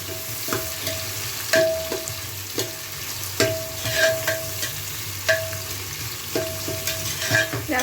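Onions fry in hot white cooking oil in a cooker for beef nehari, a constant close sizzle broken by repeated clinks and scrapes of a spoon stirring at a steady, uneven pace, with no talk.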